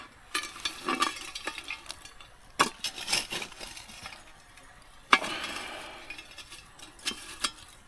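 Scattered sizzling, crackles and scrapes come from hot coals being shoveled onto a camp oven over an outdoor fire. The bursts are irregular and fairly close, with sharper pops and quieter stretches between them.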